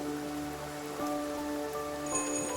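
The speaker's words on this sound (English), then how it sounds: "Oh my gosh, it's raining again. It actually rains like every day on this island." Steady rain falling on an island in the game Infinity Nikki, a dense continuous patter under soft sustained musical tones, with no voices.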